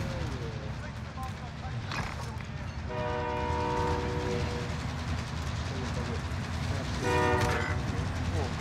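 A video game train rumbles past with a loud, sustained horn blast, then a second horn burst near the end, over steady mechanical noise and background voices.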